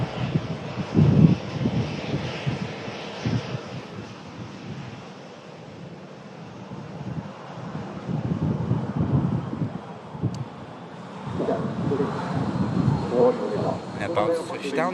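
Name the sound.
Virgin Atlantic Airbus A330 departing Manchester Airport for New York JFK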